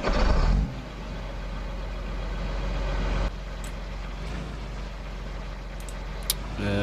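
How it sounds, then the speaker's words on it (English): John Deere 8370 tractor in Farming Simulator 15 starting up, a brief loud crank and roar settling into a steady low diesel idle that steps down slightly partway, with a couple of faint clicks near the end. "Quite unique engine sound."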